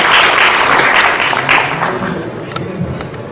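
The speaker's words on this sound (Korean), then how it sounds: "여러분 뜨거운 박수 맞이해 주시기 바랍니다." An audience at a solar-dividend policy debate forum gives loud, sustained applause as the president of the Korea Eco-Friendly Agriculture Association is introduced. The clapping gradually thins out toward the end.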